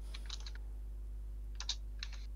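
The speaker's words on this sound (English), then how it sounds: "Oh, I hear him typing." Quick clicking keystrokes on a computer keyboard come in two short bursts separated by a pause, faint and somewhat distant over a low steady hum, with no talking.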